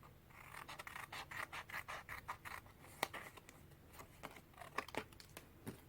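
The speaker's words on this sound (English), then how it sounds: "So basically I'm just going to cut. I don't care where it falls. I'm just cutting it." Scissors snip repeatedly through paper while an art journal page is being made, giving a steady run of close, crisp rasping cuts with small pauses between them, and no voice over them.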